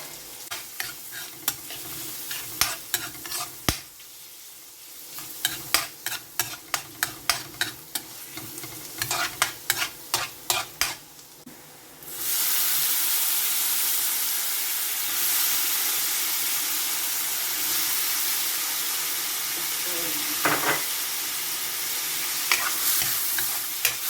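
Garlic hits hot oil in a pan over low heat for a creamy mushroom and cheese pasta, first a run of rapid clicking stirs, then a sudden bright, loud sizzle that holds steady to the end without speech.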